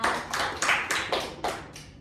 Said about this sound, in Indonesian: tepuk tangan untuk Mbak Alita